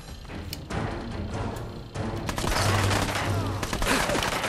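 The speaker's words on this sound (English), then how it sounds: "Who's shooting at me?" Gunfire in the video game Fallout 4, a dense fusillade of rapid shots and thuds that builds after a short dip and keeps going, loud and continuous, with no voices over it.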